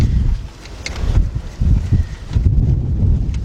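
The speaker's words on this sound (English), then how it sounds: "It's kind of windy out here." Outdoor wind buffets a microphone in uneven low gusts with some rustling, close and fairly loud, during work on a 1999 Ford Expedition 5.4 engine.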